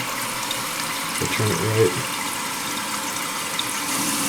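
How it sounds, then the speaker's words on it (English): Water runs steadily through the fill valve tube of a Korky 528MP toilet fill valve, a soft continuous flow close by, with a person speaking briefly over it. "So see when I turn this thing, see how the water goes down the tube?"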